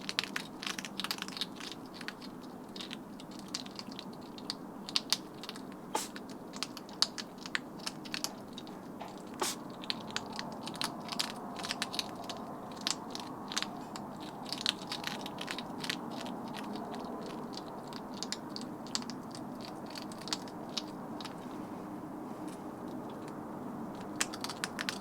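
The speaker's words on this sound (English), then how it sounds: "So what with the crunching of the eating and the huffing," Several hedgehogs eating in a back garden at night, a dense run of small crisp crunches and clicks from chewing food, with soft huffing breaths mixed in, close but fairly quiet.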